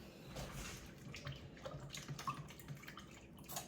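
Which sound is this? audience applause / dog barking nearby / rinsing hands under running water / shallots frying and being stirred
rinsing hands under running water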